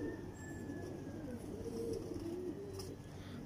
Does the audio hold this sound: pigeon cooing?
yes